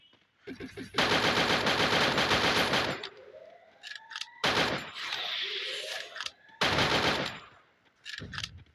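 Gunfire rings out in the Free Fire video game: loud, close automatic bursts in several rapid strings separated by pauses, with ringing game effects between them.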